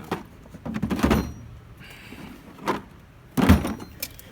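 The electrical drawer of a Snap-on tool box slides and clunks in a few separate bursts: a rattling pull near the start, a short knock, then a firm metallic thunk near the end, with quiet pauses between.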